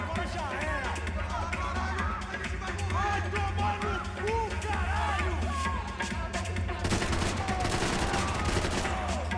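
Gunfire from the video game Max Payne 3, a dense run of rapid shots layered over game music and ambient noise, with the barrage growing louder and busier toward the end while speech plays underneath.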